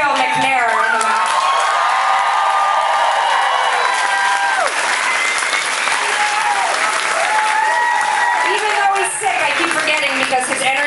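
A loud audience at a live concert in a small club claps, cheers and whoops, with a continuous roar of applause and scattered shouts through the whole stretch.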